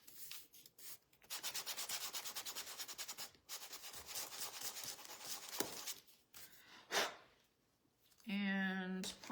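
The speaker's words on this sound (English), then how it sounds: "So we're gonna go ahead and sand both of them." Wooden craft pieces for a farmhouse highland cow decoration being hand-sanded up close: long, steady rasping strokes, then shorter scrubs with brief pauses, ending with a faint voice.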